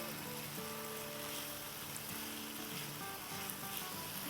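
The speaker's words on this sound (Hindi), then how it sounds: "बस इसे हम जब तक भूनेंगे जब तक इसमें से थोड़ा थोड़ा तेल ना नज़र आने लगे।" Masala frying in oil in a pot for an Athrangi pulao, a steady dense sizzle that stays even and continuous throughout, with no talk over it.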